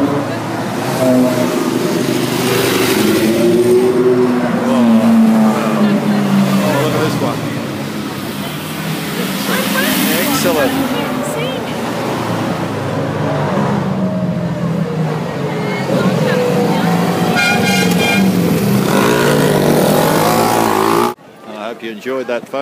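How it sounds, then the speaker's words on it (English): A parade of Ferraris passes by in a loud, continuous stream of engine roar with rising and falling revs and a few tonal horn-like blasts, over crowd noise and nearby voices talking. "The Ferraris have gone through and the crowd's dispersing"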